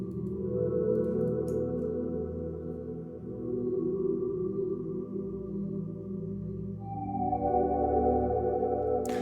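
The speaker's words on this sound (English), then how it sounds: "I found this pad that sounds really good" A sustained ambient pad from a Dune synthesizer with the lows cut, holding soft layered chords that shift to a brighter voicing near the end, steady and moderately quiet with no voices.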